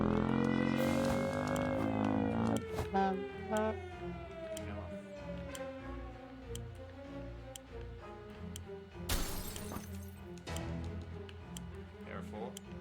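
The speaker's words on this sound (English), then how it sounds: "If you exercise before the siren sounds, after it goes off, you start packing" A rising, wailing siren tone in the video game 60 Seconds sweeps up and slowly falls amid electronic game sounds, with ticking and a sudden noisy burst partway through.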